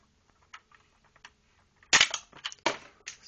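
The spring-loaded missile of a 1993 G.I. Joe Monster Blaster APC toy launches with a sharp snap, followed by quick clattering knocks as it strikes something and bounces away, after faint clicks of handling.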